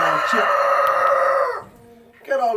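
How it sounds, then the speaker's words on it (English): A rooster crows loudly and close by in one long drawn-out call, then a short pause before another crow begins. "Okay, Rooster, I heard you."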